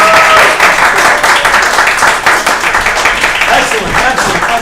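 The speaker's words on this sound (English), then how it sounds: "let's do that applause thing one more time and bring on the Muppets" An improv theatre audience breaks into loud, sustained applause and cheering as performers are brought onto the stage, a dense, close wash of clapping from start to finish.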